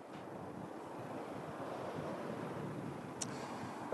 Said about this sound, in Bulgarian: Виждам, че вятъра в Русенску си е сериозен.